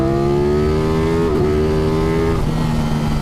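A 2021 Ducati Streetfighter motorcycle engine drones loud and close at high revs, a sustained rich buzz with a brief pitch wobble partway through before it holds steady again.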